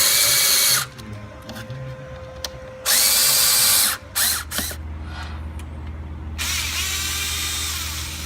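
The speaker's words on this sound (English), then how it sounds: "install your speaker adapter screws" A power drill drives speaker adapter screws on a 2012 Harley-Davidson Road Glide fairing in several loud, close whirring bursts of varying length, separated by brief pauses, ending with a longer run.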